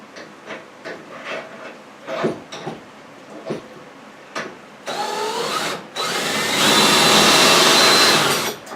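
A power drill whirs in two bursts while building a teardrop camper, a shorter one then a longer steady run, after scattered clicks and knocks of handling tools.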